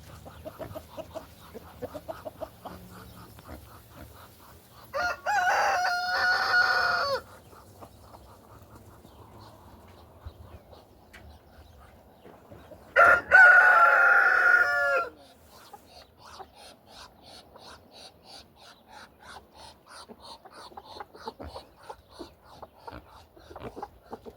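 A rooster crows loudly twice at close range, separated by a long gap, over quieter farmyard clucking and background sounds during evening feeding.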